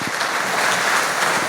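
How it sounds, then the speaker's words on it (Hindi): Steady, dense applause from an audience at a stage event welcoming a woman, loud and continuous with no gaps or voices. "जोरदार तालियां बहन के लिए।"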